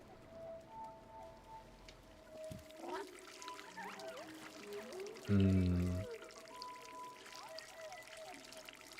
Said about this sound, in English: Some nice water sounds there